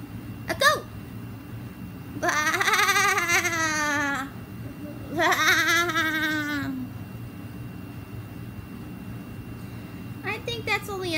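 A human voice imitates a goat with two long, wavering bleats, each lasting about two seconds and close and loud, followed by a brief trailing sound near the end.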